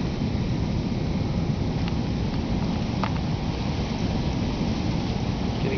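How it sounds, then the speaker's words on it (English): Steady rainfall with dense, continuous hiss and low rumble, loud and close, no voices. "Oh, and it's raining now."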